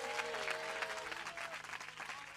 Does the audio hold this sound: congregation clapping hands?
yes